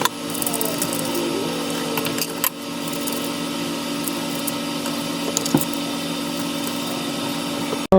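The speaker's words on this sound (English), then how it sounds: "We're gonna buff them up, get the dust off of them, and also file the little tab off the top" Filing and buffing long press-on nails with a nail file and buffer, a dense, continuous mechanical rasp with faint clicks and a couple of brief breaks, close and steady, no talking.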